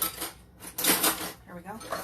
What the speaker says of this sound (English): Stir my flour to get it nice and loosened.